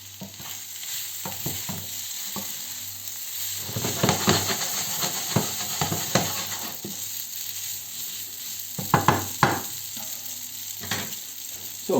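Noodles stir-fry in a wok that isn't quite hot enough, a steady hiss and sizzle broken by irregular scraping and tossing clatters, close and fairly quiet.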